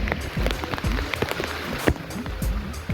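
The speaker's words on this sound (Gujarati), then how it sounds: "વરસાદ ચાલુ થઈ ગયો જોરદારનો" Heavy rain patters and splashes outdoors on Girnar mountain in a dense, uneven stream, with scattered louder drops and thumps close by, no voices.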